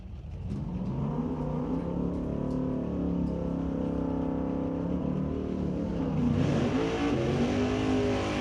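Corvette Roadster at a drag strip at Mission Raceway, engine droning steadily at high revs with a rising pitch sweep near the end, loud and continuous with no voices.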